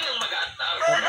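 A rooster crows once, a brief, bright, nearby call cut short.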